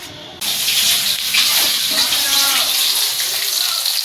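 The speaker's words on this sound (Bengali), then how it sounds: "এইখানে মাছ ভাজা হয়ে গেল" Fish frying in a pan in a home kitchen, a steady loud hiss and sizzle that starts abruptly and carries on without a break, close up.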